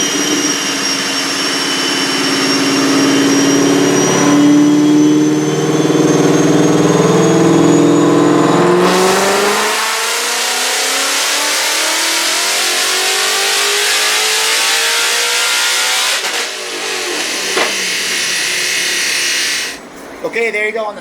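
A Whipple-supercharged 2015 Ford Mustang GT on a chassis dyno, revving hard through a long loud pull with rising engine pitch, then backing off into a lower roar and a brief settle near the end.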